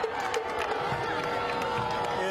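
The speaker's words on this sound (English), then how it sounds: "the Revere crowd is not happy with that call" Football crowd at the Revere vs Melrose division finals, roaring with scattered shouts and whoops in steady, dense noise, sustained and fairly loud throughout.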